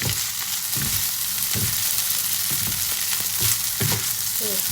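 Fried rice with fresh shrimp and chili paste stir-fried in a pan as spring onions go in, a loud continuous sizzle punctuated by regular scraping strokes of the spatula every half second or so, close up.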